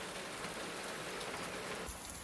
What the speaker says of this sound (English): Although the rain was quite welcome here